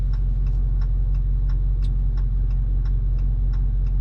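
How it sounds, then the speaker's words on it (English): Turn signal blinker in a 2021 Dodge Charger RT cabin, a crisp ticking repeating at a steady, even rhythm over a low engine hum inside the car. "There's a good noise to the blinker even."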